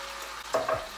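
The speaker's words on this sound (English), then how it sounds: "you're gonna want to flip it to the other side so that every single side has been browned" A roast browning in a hot pan, with a soft sizzle and a brief scrape or shuffle as the meat is turned, close and quiet.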